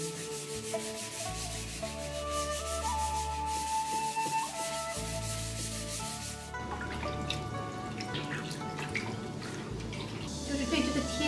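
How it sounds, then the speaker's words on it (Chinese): Sandpaper is rubbed by hand over a smooth surface in a traditional Suzhou craft workshop, producing a steady, close, rasping scrub that takes over midway from a quieter tonal background. "所以我们就要用到这个砂纸来打磨"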